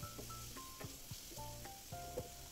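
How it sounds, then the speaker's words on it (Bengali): Ground coriander, turmeric, chili powder and salt fry in a pan over medium heat for lentil dal, a soft close sizzle with a few stirring scrapes, faint under background music. "একটু ভেজে নিচ্ছি।"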